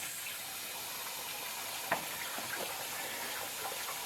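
Hot water pours steadily into the plastic container of a BISSELL Spot Clean Pro carpet cleaner, a faint, continuous hiss of filling liquid with one small knock partway through.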